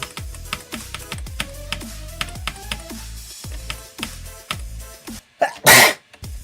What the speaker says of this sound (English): why do I always have to sneeze at the worst times?